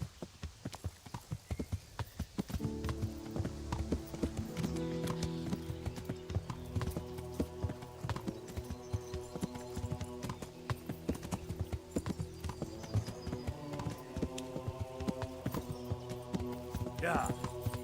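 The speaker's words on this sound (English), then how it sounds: "Silly horse." Horse hooves clip-clop steadily through nearly the whole stretch in the Kingdom Come: Deliverance game, with a brief whinny and a person talking over the top.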